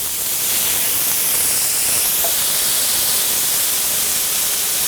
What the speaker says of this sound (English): I'm going to put a little bit of water in there